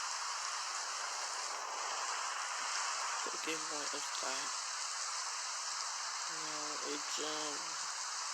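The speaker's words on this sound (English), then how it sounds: "It's beginning to rain." Rain beginning to fall around a campsite, a steady even hiss throughout, with brief bursts of nearby talk in the middle and near the end.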